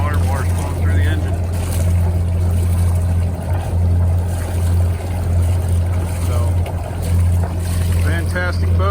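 A 1995 Beneteau First 42S7 sailboat's inboard engine idles steadily at the dock in Marco Island, Florida, its low, constant drone joined by splashing water from the exhaust, with someone talking over it.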